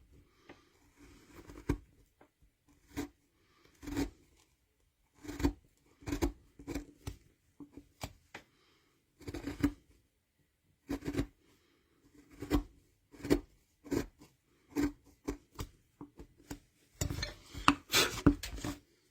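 Carving knife cutting a stop cut into wood on a fantasy medieval light post relief carving, heard as short crisp scraping and clicking strokes in irregular bursts, close and fairly quiet, with brief pauses between cuts.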